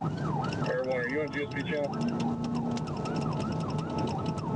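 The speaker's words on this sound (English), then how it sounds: "If they can't hear your sirens, they ain't gonna hear the horn." Police car sirens wail in continuous rising and falling sweeps close by, with vehicle and road noise beneath, while a voice talks over a radio.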